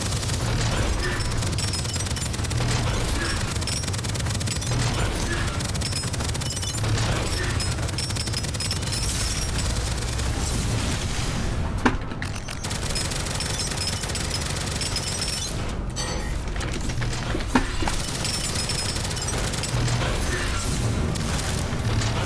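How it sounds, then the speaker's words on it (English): Dense, constant barrage of gunfire and bullet impacts in the sci-fi roguelike shooter Deadzone: Rogue, a loud unbroken wall of shots and booms with a couple of sharper bursts standing out, no talking over it. "Oh, so many bullets!"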